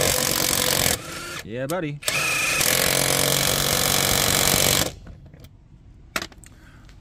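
A no-name budget cordless impact wrench from Amazon runs in loud bursts of rapid hammering with a brief pitch-sweeping rev between them, then cuts out to quiet clicks as someone speaks briefly.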